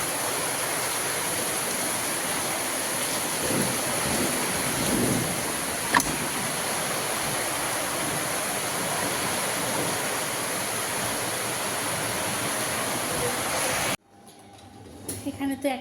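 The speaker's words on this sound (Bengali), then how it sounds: "খুব জোর বৃষ্টি পড়ছে।" Heavy rain pours down in a steady, dense hiss that fills the air for most of the stretch, then stops abruptly near the end.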